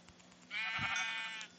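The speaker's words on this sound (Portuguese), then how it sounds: "vamos tá pegando algumas ovelhas aqui" A sheep in Minecraft PE gives one drawn-out, wavering bleat lasting about a second, clear and close, with no talking over it.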